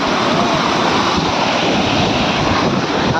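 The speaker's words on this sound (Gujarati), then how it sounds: "તો કેવું મસ્ત પાણી જાય છે." Water spills over the edge of a brim-full lake in a constant, close, hissing rush, with some wind buffeting the microphone throughout.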